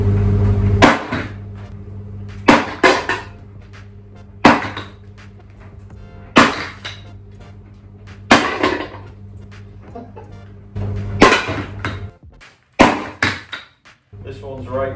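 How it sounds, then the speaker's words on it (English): A hammer dropped onto an old wok dish strikes it repeatedly with sharp metallic clangs, about a dozen hits at irregular intervals, each ringing briefly with a sustained low hum underneath. "I started dropping the hammer onto the dish from greater and greater heights"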